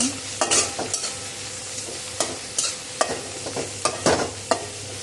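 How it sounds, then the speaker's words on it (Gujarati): Carrots being stirred into spring roll filling in a hot pan: repeated close spatula scrapes and taps at an irregular, brisk rhythm over a constant frying sizzle. "પછી થોડા નાખવાના છે ગાજર, એને પણ સરસ રીતે હલાવી દેવાના છે."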